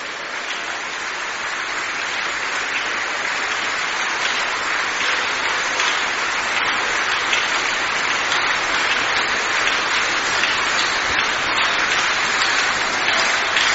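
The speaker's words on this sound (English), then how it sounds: "let the rest of us give the Lord a big round of applause" A church congregation applauding the Lord during a divine encounter service, a dense and sustained roar of many hands clapping, loud and continuous, with no speech over it.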